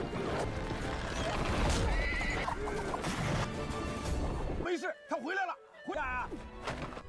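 Horses whinny loudly several times over a busy, crashing backdrop with hooves clattering, ending in a few clear neighs that stand almost alone.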